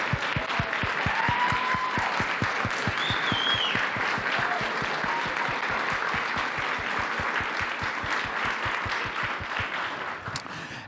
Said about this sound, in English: Please join me in giving a standing round of applause to Dr.